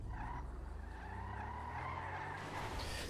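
Car drifting with tire skidding in a GTA roleplay game, a continuous squealing skid over a steady low engine rumble, loud and close throughout.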